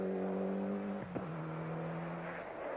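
An ex-Malcolm Wilson Ford Escort Cosworth rally car drives at a 1995 rally with a steady, moderately loud engine drone, a brief sharp pop as it shifts, and then a lower-pitched pull.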